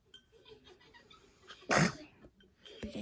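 A single sharp, loud sneeze bursts out near the middle, close to the listener, surrounded by quiet breathing and faint household sounds.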